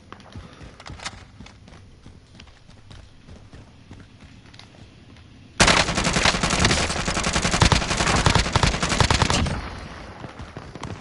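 Call of Duty Warzone gunfire erupting midway as a loud, sustained rapid volley after quieter footsteps and faint distant shots, then tapering off.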